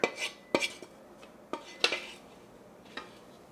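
A utensil scrapes and knocks against a bowl in irregular strokes while mixing cinnamon honey cake batter, a handful of sharp clinks separated by brief quiet moments, close by.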